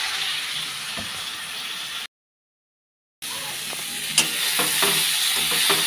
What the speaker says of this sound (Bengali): এখন দিয়ে দিচ্ছি পেঁয়াজ, দিয়ে আর একটু ভেজে নেব ভালো করে রসুনটা আর পেঁয়াজটা।